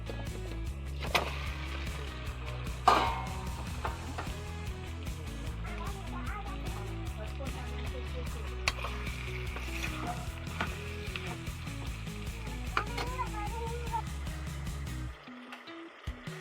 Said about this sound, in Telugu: టొమాటో మగ్గిన తర్వాత క్లీన్ చేసుకున్న 1/2 కేజీ చికెన్ వేసుకుందాం.